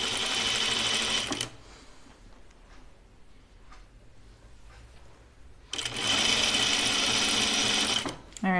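A sewing machine runs in two bursts while binding is stitched onto a shirtdress, each burst loud and close, separated by several seconds of quiet handling.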